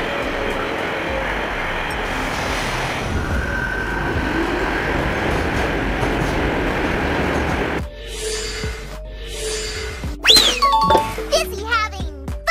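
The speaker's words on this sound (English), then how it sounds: "Subway train. An underground train system designed to move large numbers of passengers efficiently" An underground subway train runs with a sustained loud rumble and rushing noise for several seconds, then gives way to brighter screeching and clattering sounds mixed with a voice and other sharp tones.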